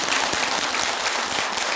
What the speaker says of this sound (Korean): 가만히 있으면 박수 치는군.